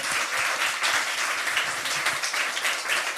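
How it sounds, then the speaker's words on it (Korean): A church congregation applauds during a revival service, dense, steady clapping from many hands filling the space at an even level throughout, with no voices standing out. "우리 예수님께 다시 한번 영광의 박수 한번 올려드립시다"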